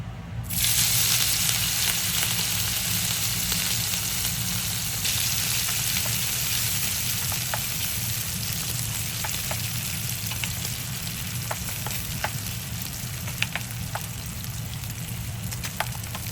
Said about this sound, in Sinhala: දැන් මම මේ දැල්ලෝ ටික බදින්නේ.